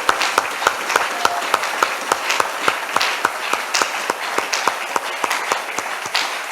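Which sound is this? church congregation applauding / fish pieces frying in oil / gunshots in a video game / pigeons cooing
church congregation applauding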